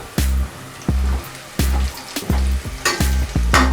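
Onions frying in hot oil for a spicy Hyderabadi-style goat head curry, a steady loud sizzle broken by repeated rhythmic stirring scrapes close to the pan, with no talk.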